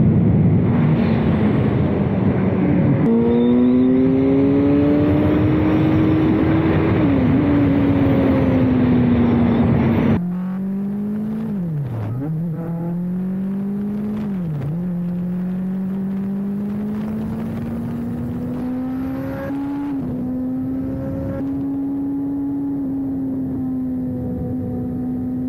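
A Kawasaki ZX6R 40th Anniversary 2024 sport motorcycle roars loudly on a test ride, its engine pitch climbing through the gears in rising sweeps, each shift marked by a brief dip, with wind rush under it.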